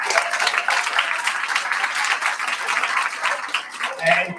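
An audience at the Kids' Lit Quiz world final in Paihia, New Zealand, applauds in sustained, loud, close clapping that carries steadily for several seconds, with a brief voice near the end.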